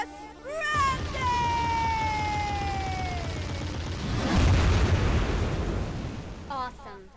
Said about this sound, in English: More explosions. Your wish is granted!